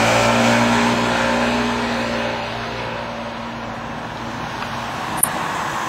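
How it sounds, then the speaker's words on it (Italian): Cars pass on a road at a bend in Sorrento, making a loud, steady engine and tire roar that eases slightly over several seconds, with one brief sharp click near the end. "perché vedete le macchine passano qua"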